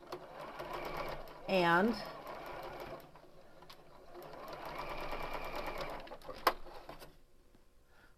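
A sewing machine stitches quilt block pieces for a patriotic star quilt in short rhythmic bursts, with a quick stop-start run and a longer steady stretch of stitching under occasional talk.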